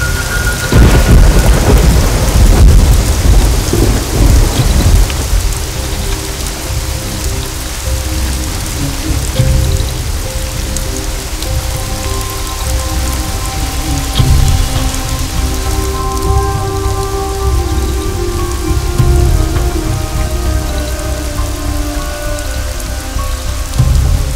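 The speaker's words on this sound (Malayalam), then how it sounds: "ഇവിടെ ഭയങ്കര മഴയാണ്." Heavy rain pours down hard and continuously while thunder rumbles and rolls through it, loud and close, with no speech.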